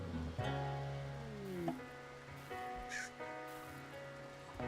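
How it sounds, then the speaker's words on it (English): A bird call in the video game Rimworld: a few short caw-like cries over a steady bed of tonal game music and rain-like hiss, fairly quiet overall. "Why'd I hear a bird?"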